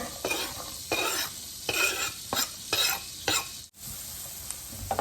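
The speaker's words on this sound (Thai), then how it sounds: "ผัดพอหอมนะคะ" Onion stir-frying in butter in a pan, soft sizzling broken by repeated bursts of a utensil scraping and stirring, close and fairly quiet, with no talking.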